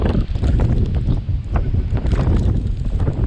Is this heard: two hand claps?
no